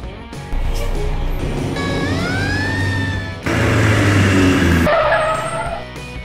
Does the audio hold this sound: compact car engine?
yes